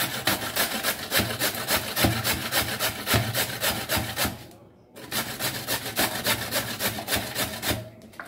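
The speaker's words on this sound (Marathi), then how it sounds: "सगळे गाजर किसून घेऊ." Carrots rubbed rhythmically against a hand grater, a steady rasping scrape repeated many times in close succession, close and fairly loud, with a brief pause midway before the grating resumes.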